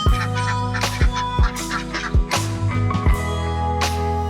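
Farm poultry and ducks call loudly and close together, a dense run of repeated honking quacks and squawks overlapping with no talking.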